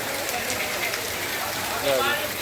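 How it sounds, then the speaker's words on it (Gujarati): Heavy monsoon rain pours down in Porbandar, a dense, even hiss of drops on surfaces with a voice faintly present beneath it. "વરસાદ ધોધમાર વધી ગયો છે અંદરાધાર વરસાદ છે"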